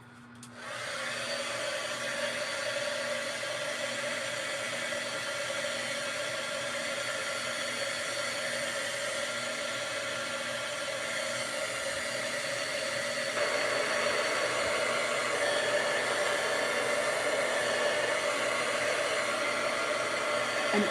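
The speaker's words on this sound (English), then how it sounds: "I'm going to put some heat on it." A hot air blower dries paint on a Dollar Tree Christmas craft, with a loud, steady whirring rush of air that runs continuously close by and grows slightly louder partway through.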